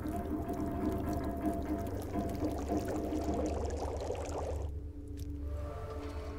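Water boiling over a fire in The Long Dark, a steady bubbling, gurgling simmer with a faint liquid texture that thins out near the end, alone and moderately quiet.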